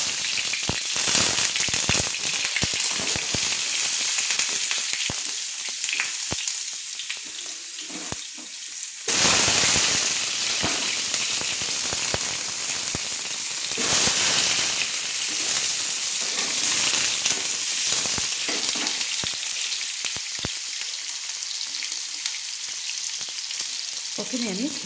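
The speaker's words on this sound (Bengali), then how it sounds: "আমি প্রথমে আলুগুলো ভেজে নেব। এই আলুগুলো কেটে ধুয়ে রেখেছি বড় বড় করে 5টা আলু, সেটা আমি ভেজে নেব।" Five large cut, washed potatoes fry in hot oil in a wok, a loud, dense sizzle with bubbling crackle that holds for the whole stretch, with stirring scrapes and a sudden surge partway through.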